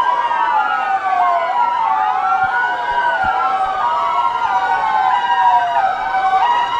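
Several ambulance sirens wailing together at a military parade, overlapping rising and falling tones that sound loud and close, continuous throughout.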